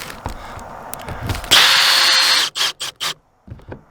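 A power drill drives screws into an RV skylight, its motor whining loudly for about a second, then cutting in and out in several short bursts before stopping, with no talking.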